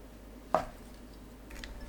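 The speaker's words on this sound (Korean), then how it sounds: "도토리묵을 1cm 두께로 썰어줍니다." A knife cuts through a block of acorn jelly on a board, giving one soft, close chop followed by faint handling noises in a quiet kitchen.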